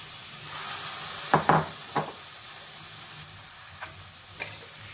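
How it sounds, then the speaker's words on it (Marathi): Barnyard millet and soaked sago being sautéed in ghee in a pan: a steady soft sizzle with a quick cluster of spoon scrapes, then a few lighter taps and stirs, close and unaccompanied by talk. "हा जो बगर साबुदाणा आपण धुवून ठेवलेला आहे तो पण याच्याबरोबर छान परतून घेऊया"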